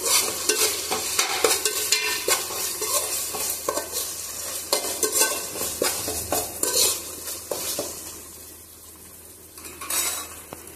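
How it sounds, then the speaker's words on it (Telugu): A spoon works ginger garlic paste into onions frying in a pan, loud, repeated stirring scrapes and metal clinks over a continuous sizzle that eases off toward the end. "2 టీ స్పూన్ల అల్లం వెల్లుల్లి పేస్ట్ తీసుకొని వేస్తున్నాను. వేసి ఒకసారి కలుపుకుందాం"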